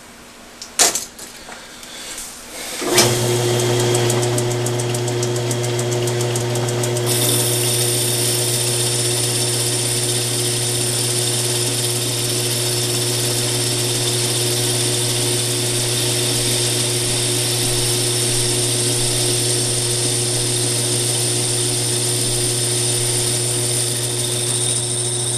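A metal lathe spins up after a few clunks and runs with a steady, tonal hum while cutting square threads, the drone continuing evenly and fairly loud with no talking.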